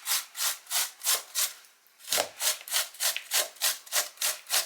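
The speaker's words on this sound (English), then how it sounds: "So just grate the ginger." Ginger is grated by hand on a grater in quick, regular rasping strokes, about three per second, with a brief pause before the rhythm resumes, close and clear with no talk.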